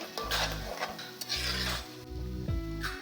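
Masala and tomatoes fry in a pan while being stirred, with a steady sizzle and the scrape and clink of a spoon against the pan throughout.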